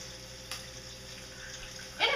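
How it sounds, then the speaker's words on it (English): Hot bacon grease is poured from a pan into a dish over a kitchen sink, a faint liquid trickle that ends in a short, brighter splash. "And I just pour my grease"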